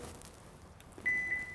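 A 2022 Hyundai Tucson Hybrid's power trunk gives a short electronic beep, a clear tone that briefly breaks and resumes over quiet surroundings.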